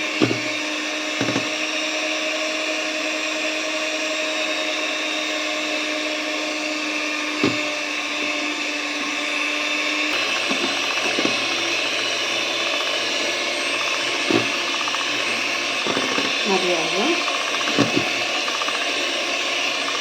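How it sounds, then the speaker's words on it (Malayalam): An electric hand mixer whirs steadily as it beats oil and caramel syrup together for a carrot and date plum cake, a continuous mechanical drone with brief knocks and rattles of the beaters against the bowl. "നമ്മൾ ഓയിലും കാരമൽ സിറപ്പും ചേർത്ത് ജസ്റ്റ് ഒന്ന് ചെറുതായിട്ടൊന്ന് അടിച്ചെടുക്കാൻ വേണ്ടിയാണ്"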